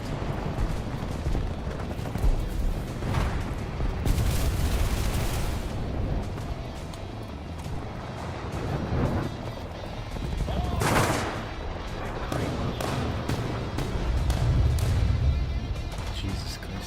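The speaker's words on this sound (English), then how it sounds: "Being inside of a building and listening to explosions is insane." Explosions and gunfire in the War Thunder game heard from inside a building: a dense, continuous battle rumble with repeated heavy booms and sharp bursts, some louder blasts standing out.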